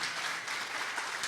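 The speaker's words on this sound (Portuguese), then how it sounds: "Dá aquela salva de palmas, só a MVPM sabe dar." A church congregation bursts into a brief, loud round of applause, a thick continuous wash of many hands clapping at once.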